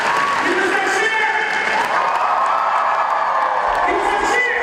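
At a graduation ceremony at Mount Alvernia High, a large crowd keeps up loud cheering, whoops and clapping in a dense, continuous roar, with voices shouting over the din.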